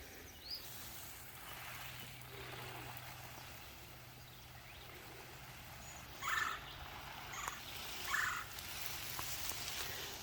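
A young turkey poult, hatched in April, gives two short calls outdoors over a steady background hiss of running water in a kitchen garden.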